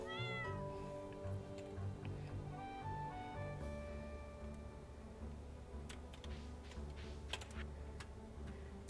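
A pet cat meows in Stardew Valley, a few short, bright in-game meows over soft farm music and faint clicking, with no talk.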